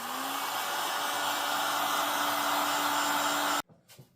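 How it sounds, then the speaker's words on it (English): A small heat gun blows steadily over a hand-built clay pottery ladle, a loud continuous whooshing hum with a faint motor whine, running unbroken for several seconds before cutting off abruptly, leaving brief quiet handling noises. "To help along with the drying, sometimes I use my little heat gun here"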